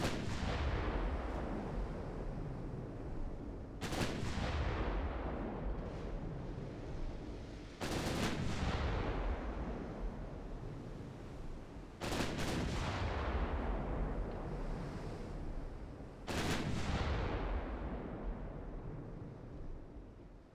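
Naval guns open fire in a video game set in a 1960 Mediterranean campaign, with five heavy booming salvos spaced a few seconds apart, each loud blast fading into a long rumbling decay.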